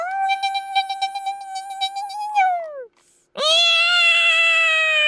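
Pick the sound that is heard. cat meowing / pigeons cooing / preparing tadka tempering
cat meowing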